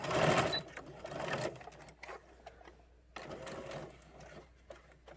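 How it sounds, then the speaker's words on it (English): Sewing machine stitching a fabric face mask: rapid mechanical chattering bursts, loudest at the start, then intermittent runs of stitching with short pauses, close by and moderately quiet. "I'm going to take it to my machine, and I'm going to sew all the way around it."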